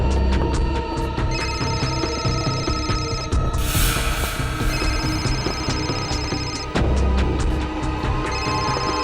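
A mobile phone rings in repeated electronic bursts, loud and close, over a busy background of mechanical clatter and rumble.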